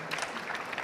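Conference audience applauding a presenter at a disaster management expo, a brief, dense burst of clapping from many hands.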